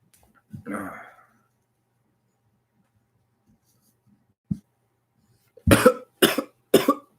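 A faint throaty noise early, a lone soft thump, then three sharp coughs in quick succession close to the microphone, after a smoking hit.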